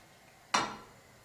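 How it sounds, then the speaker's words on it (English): A single sudden hiss-like burst as something meets a non-stick frying pan with a little sunflower oil, sharp onset then fading over a fraction of a second, close and otherwise quiet. "I'm gonna use this non-stick frying pan, and I'm gonna use some sunflower oil."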